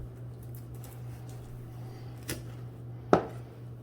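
A knife hacks through a chicken's spine during spatchcocking: two sharp, separate chops, the second louder, over a steady low background hum.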